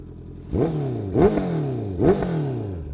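A 2023 Honda CBR 650R motorcycle engine is blipped three times in quick succession close by, each throaty rev rising sharply and falling back toward idle, with no talking.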